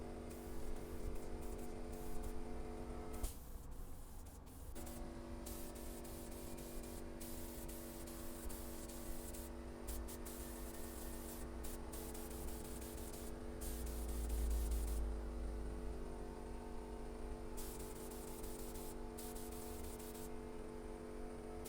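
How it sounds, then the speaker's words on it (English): A spray gun applies water-based finish in a workshop, giving a steady hissing spray that runs in long bursts with brief pauses, over a constant low hum from the compressor or equipment. "This is just a water-based finish, so it's nice and easy to clean up in the spray gun afterwards."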